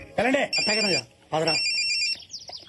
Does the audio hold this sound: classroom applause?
no